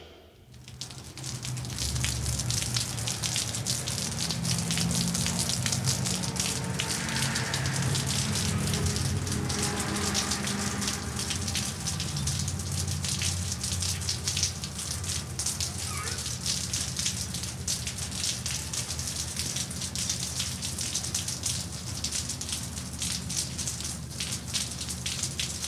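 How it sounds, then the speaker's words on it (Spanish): Rain falls steadily on surfaces in a city, a continuous dense patter that holds at an even, fairly loud level for the whole stretch, with no voices over it. "mientras la lluvia moja tus cabellos"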